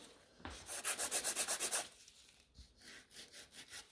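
Rhythmic filing strokes across the free edge of a BIAB extension nail, about nine quick, even rasps in a steady run, followed by a pause and a lighter, slower set of strokes, close and alone.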